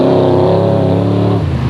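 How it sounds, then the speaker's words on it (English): American-built Ford Ranger rally truck with a 5-litre V8 engine at a desert rally race, a loud, deep engine roar held steady before pitch and tone shift as it passes. "stormed into view in the American-built Ford Ranger, which is fitted with a 5-litre V8 engine"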